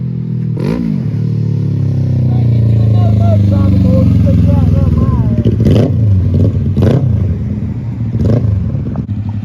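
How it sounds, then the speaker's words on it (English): A motorcycle engine revs and drones nearby, rising and falling as it rides along, with brief clattering bursts and occasional people talking. "Look at him riding it down the road."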